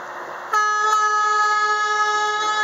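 A loud, sustained boat horn blast sounds after a brief muffled rumble, holding one steady chord-like tone for a couple of seconds, close and strong, near a bridge in the Florida Keys.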